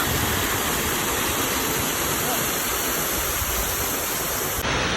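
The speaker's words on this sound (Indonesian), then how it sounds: "Akhirnya tiba di air tajun terasa barasa." The Sarasah Barasok waterfall roars in a steady, dense wash of broadband rushing water, loud and close, unbroken from start to finish.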